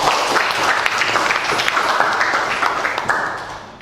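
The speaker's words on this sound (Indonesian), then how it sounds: "Tepuk tangan." Applause from a classroom audience, a dense, steady burst of many hands clapping at once, loud and close, tapering slightly toward the end.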